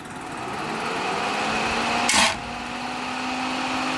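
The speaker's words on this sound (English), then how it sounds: "I'm going to have him crank it over so we can get the bolts in the right spot." A rat rod engine cranks over with the coil unplugged, giving a steady mechanical whirr with a hum throughout and a brief louder burst of noise midway.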